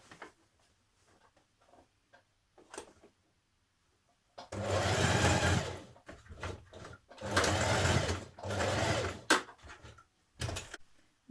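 Short bursts of a sewing machine stitching trouser front sections, three or four loud whirring runs of a second or two each, separated by quiet gaps with faint clicks and fabric handling.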